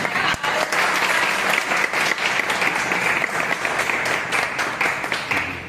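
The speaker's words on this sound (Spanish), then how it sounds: "Aplausos, por favor." An audience bursts into sustained applause at the presentation of the book 'La Constelación de Asherá', loud and continuous hand clapping filling the room from start to finish.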